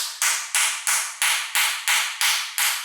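A socket is used to tap a distributor gear into the block of a 1968 GTO engine, giving eight evenly spaced, sharp metallic knocks, close and loud, with no talking.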